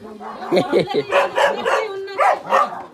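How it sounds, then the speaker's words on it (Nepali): Dogs fight near a house, with repeated sharp barks, yips and snarling bursts in quick irregular succession, close and loud, while a person talks over the scuffle. "यहाँ कुकुरहरू लड्दै गरेका छन्"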